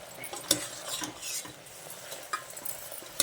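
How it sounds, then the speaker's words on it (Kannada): Onions with turmeric powder and salt are stirred and fried for a pudina green mutton gravy, a faint sizzle under irregular spatula scrapes and a few sharp clinks against the pan. "ಸ್ವಲ್ಪ ಅರಿಶಿನ ಪುಡಿ, ಸ್ವಲ್ಪ ಉಪ್ಪು ಹಾಕ್ಕೊಂಡು ಚೆನ್ನಾಗಿ ಬಾಡಿಸ್ಕೊಳ್ಳಿ"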